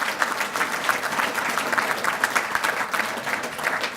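An awards dinner crowd at an all-breeds livestock convention breaks into a big round of applause, dense and even clapping throughout at full volume with no speech on top.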